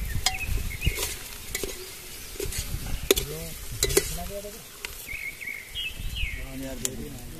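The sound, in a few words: stirring and frying masala in a pan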